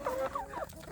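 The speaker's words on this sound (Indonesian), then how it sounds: "Lucu ayamnya ini." Free-range village chickens cluck in a short burst of three or four quick, close calls, with no talk over them.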